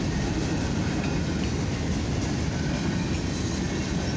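An eastbound FWLI mixed freight train of grain, rail and steel cars with 384 axles rolls past on the main track at about 29 mph, a loud, continuous close rumble of wheels and cars with no break.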